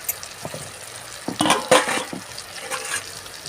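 Chicken pieces hit hot oil in a pan for a dhaba-style chicken curry, setting off a cluster of sharp sizzling bursts midway that settle into softer crackling.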